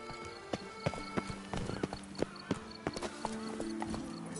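Hooves clip-clop in a steady galloping rhythm as the horse Roach runs in The Witcher 3, sharp repeated hoofbeats with a faint whinny, moderately loud.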